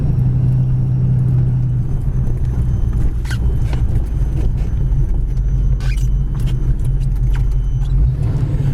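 A 1939 Chevy street rod driving, its engine a steady low rumble throughout with light rattles and clicks from the car over it, heard from inside at close range.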